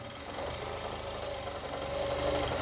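An electric sewing machine runs continuously while stitching a pant with a front belt and elastic back, a close steady whirring hum with a faint mechanical tone, no talk.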